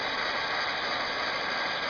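A Graco 695 airless paint sprayer runs in prime mode with a fast, steady mechanical ratcheting chatter over a constant hiss, close and unbroken throughout.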